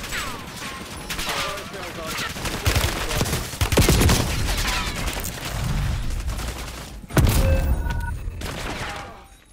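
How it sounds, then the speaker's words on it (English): Call of Duty gunfire fills a chaotic battle: dense, loud automatic bursts and rapid shots with booms and mechanical clatter throughout. Shouted voices are mixed in. "Taking fire over here!"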